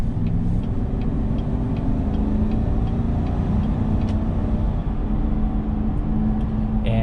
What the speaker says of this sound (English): road noise, or I should say wheel noise or tire noise